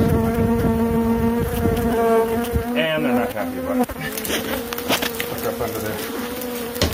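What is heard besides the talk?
bees buzzing while removing a hive from a chicken coop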